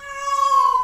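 A cat gives one loud, drawn-out meow close by, lasting just under a second, with nothing else around it.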